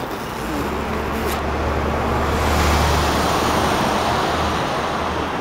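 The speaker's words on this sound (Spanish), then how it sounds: "Hay demasiados coches" Steady city street traffic with cars rumbling past close by, a continuous low engine drone and road hiss with no clear gaps.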